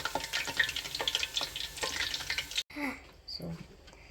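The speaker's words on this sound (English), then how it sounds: "I would just let it fry for like less than a minute, and then maybe 30 seconds more" Akara bean fritters fry in hot oil, giving a dense, close sizzling crackle that cuts off abruptly near the end, leaving quieter scattered clinks and faint sizzle.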